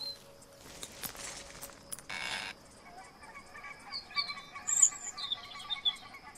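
Birds chirp and call in the video game Neyyah, with scattered tweets and calls over a faint ambient bed, growing a bit livelier toward the end.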